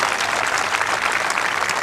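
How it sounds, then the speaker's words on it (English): A crowd applauds at the 1986 Top Crown lawn bowls final, giving a close, loud and continuous patter of many hands clapping together through the whole moment. "Even Eddie Hulbert joined in the applause there"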